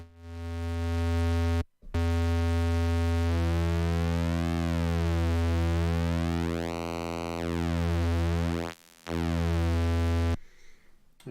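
Square wave from a Behringer Neutron synthesizer with overdrive bypassed, a loud buzzy electronic tone that sweeps up and down in pitch, with two brief dropouts and no voices.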